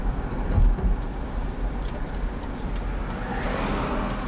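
Interior road noise from a Pontiac Bonneville on a test drive with a speedometer fault, a steady low engine and tire rumble with traffic hiss, no voices.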